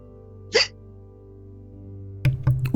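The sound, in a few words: hiccups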